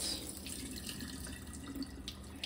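Water running and splashing while rice is rinsed in a rice cooker pot and drained, a steady close wash of trickling liquid with faint drips and no talking.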